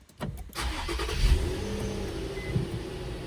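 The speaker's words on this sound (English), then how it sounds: "Start the car and let it run." A 2008-2012 Infiniti EX35 AWD engine cranks and fires after a brief pause, then settles into a steady idle, close by with no talking.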